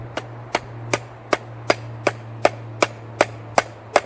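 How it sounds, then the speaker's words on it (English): A hammer strikes the blade of a Junglas II knife about ten times in a steady, even rhythm, each sharp clink ringing briefly over a low background hum. "get a bigger hammer"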